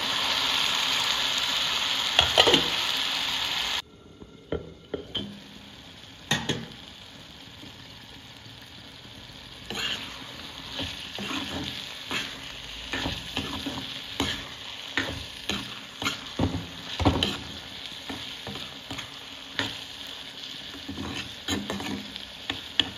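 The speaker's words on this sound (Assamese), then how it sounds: "বিলাহীখিনি গলিলে আৰু এতিয়া মই মাছৰুমখিনি দি দিম ইয়াত।" Mushrooms fry in a pan with softened tomatoes, giving a steady close sizzle with scraping strokes of stirring and occasional pattering clicks, without talk.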